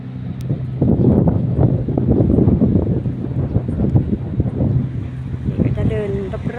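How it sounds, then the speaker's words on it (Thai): A cargo barge passes on the river at the Thep Pathum pier in the morning, a broad low engine and water rumble under heavy wind noise on the microphone, steady and fairly loud throughout. "มีเรือลำเลียงถึงค้าเล่นผ่านพอดีเลยนะคะเพื่อนๆค่ะ"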